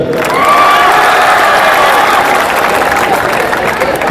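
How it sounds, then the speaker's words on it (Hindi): Audience applause at a comedy poetry event, loud sustained clapping with some crowd cheering, filling the whole stretch evenly. "अरे नमन कर दिया, ताली तो बजा दो।"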